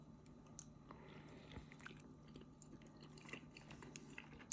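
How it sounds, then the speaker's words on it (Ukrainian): A large Georgian khinkali dumpling is bitten into and chewed, giving soft wet squishes and faint crunchy bites close to the mouth, quiet and without speech. "давайте поглянемо, як там всередині вийшло в самому великому хінкалі. Зараз відкусимо."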